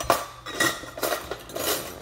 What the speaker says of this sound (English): let me find my tablespoon measure